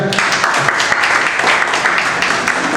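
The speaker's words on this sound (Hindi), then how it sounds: "थोड़ा तालियां बजाते हैं" A comedy show audience at a gym-themed stand-up performance breaks into loud, sustained clapping, close and dense, with a few voices faintly mixed in.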